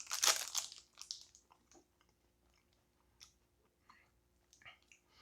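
Someone chews a snack from a USA snack crate up close, with a loud crinkly bite and crunch at the start followed by quieter, soft smushing chews and small mouth noises, no talking.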